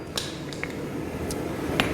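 A hammer strikes hot steel while an African throwing knife, a hunga munga, is forged, giving a few sharp metallic clinks at uneven intervals over a low background hum.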